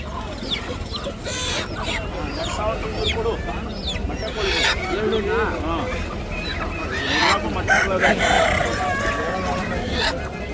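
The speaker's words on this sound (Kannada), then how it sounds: "ಇವೆಲ್ಲ ಬಂದು ನಾಟಿ ಕೋಳಿ, ಪ್ಯೂರ್ ನಾಟಿ ಕೋಳಿಗಳು" A crowded chorus of native country hens clucking and squawking nonstop at an Aseel chicken market, with a rooster crowing among them and people talking in the background.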